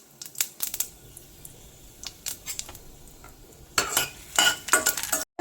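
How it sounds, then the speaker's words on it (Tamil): Asafoetida lumps and dried red chillies fry in hot oil, heard as scattered crackling bursts and clinks, sparse at first and denser near the end, with no voices. "நல்லா இந்த பெருங்காய கட்டி எண்ணெயில் பொரியணுங்க. எடுத்து வச்சிருக்க காஞ்ச மிளகாயை அதில் போட்டுக்கலாம்."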